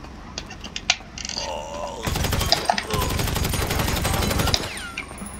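Rapid automatic gunfire during a GTA heist mission, a dense close volley of shots lasting a couple of seconds after a few scattered earlier shots, with brief talk in the background.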